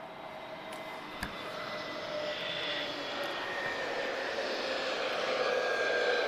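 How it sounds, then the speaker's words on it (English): An Azores Airlines jet arriving from Ponta Delgada, a faint, distant engine hum with thin whining tones that slowly swells, with no voices. "Oh, we've got an arrival."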